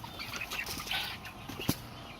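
A homestead rooster gives faint, short clucking calls among other farm birds, with a brief louder burst near the end.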